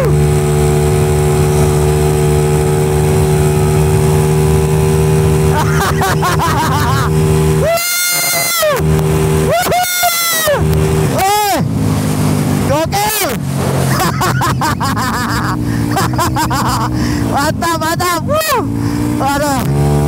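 A Yamaha Mio 300cc motorcycle races a Honda CBR RR, with loud revving engines rising and falling through repeated gear changes, passing close by, while people shout and talk over the noise.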